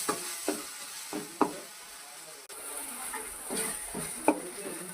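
Mutton paya masala with green chilli and coriander powder sizzles in oil while being stirred, with soft scraping strokes and a steady frying hiss close by, no talking.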